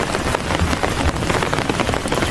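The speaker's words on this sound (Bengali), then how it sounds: "বৃষ্টির বড় বড় ফোঁটা টিনের ওপর টপ টপ করে ঝরছে" Heavy downpour with large raindrops drumming on a tin roof at night, a dense, loud and continuous patter close by, with no voices.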